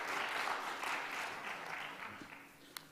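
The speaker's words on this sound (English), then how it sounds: "A round of applause for our local reparations" Audience applause at a lecture swells and holds, a broad patter of many hands from a seated crowd that gradually thins toward the end with a single sharper clap.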